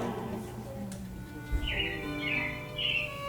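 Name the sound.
robins chirping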